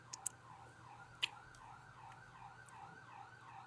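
A faint ambulance siren wails at a distance, its rising and falling tone repeating steadily beneath a hum of background noise, with a couple of sharp clicks.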